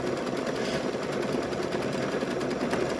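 A sewing machine stitches fabric for a stuffed bear, a fast, even mechanical whirring hum with a rapid needle rhythm running steadily and fairly close throughout.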